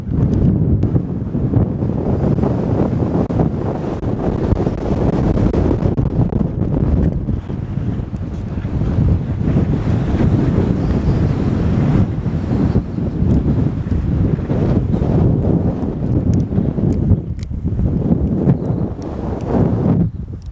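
Strong wind at a ghost town in Girvin, Texas buffets the microphone continuously, a loud low rumbling roar that surges and eases without letup.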